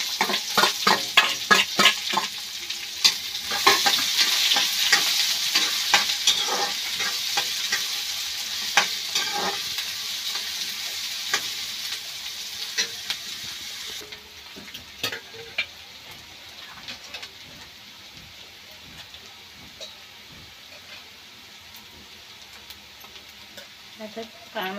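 Curry leaves and onion frying in hot oil for a dal-onion dish, a loud, steady sizzle with frequent stirring scrapes that drops to a quieter sizzle partway through.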